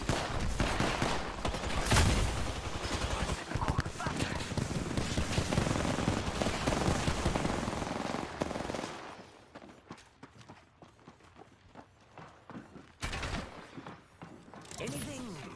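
Rapid video game gunfire in a late-night shooter session, dense bursts of automatic fire and explosions filling the first half, then sparser shots and impacts against quieter background.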